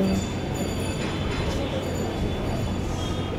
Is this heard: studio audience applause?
no